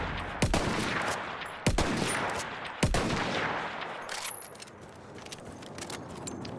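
Three sharp, crisp shots ring out from a gun in Battlefield 1, spaced about a second apart, each with a short echoing tail over steady background noise.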